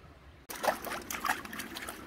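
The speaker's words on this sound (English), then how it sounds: "Beautiful creek anyway." Creek water trickling in the woods, a close, gentle babble that starts abruptly and runs steadily with small splashy bursts.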